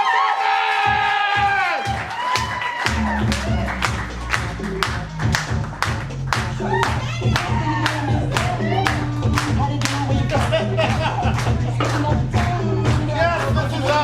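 A live improv comedy audience at OKC Improv cheers, shouts and claps: a few slow rhythmic claps build quickly into sustained loud applause with whoops and scattered shouting that carries on to the end.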